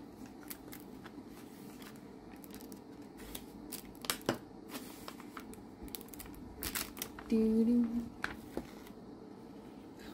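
A diamond painting kit package is opened close by, with scattered crinkles, taps and rustling handling noises and a brief louder scrape near the end.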